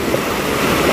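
Sea waves at a beach resort in Lian, Batangas wash in a steady, loud broadband roar, with wind buffeting the microphone and no voices during the short stretch.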